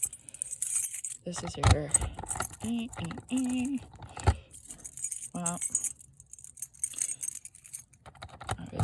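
Keys jangling inside a 1985 Fleetwood RV, several short metallic jingles and clinks scattered between bursts of nearby speech.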